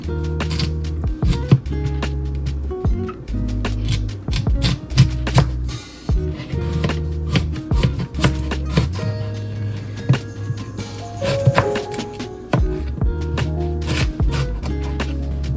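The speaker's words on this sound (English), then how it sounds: "now that the potatoes are peeled, I'm just going to start slicing this up" Knife slicing peeled potatoes on a cutting board, a close, busy run of crisp chops and taps, irregular but steady throughout, with no voices.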